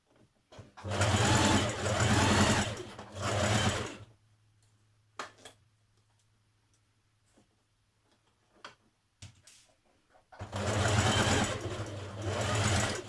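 A sewing machine stitches a dart on a Simplicity 8602 top in two loud, close bursts of rapid stitching, one near the start and one near the end. Between them a low hum continues with a few clicks.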